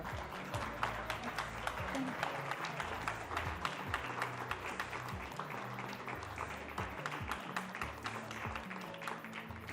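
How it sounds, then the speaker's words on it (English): A standing audience applauds an honoree with thick, continuous clapping that holds throughout, while a murmur of voices runs underneath. "if you all could please stand and give her a round of applause"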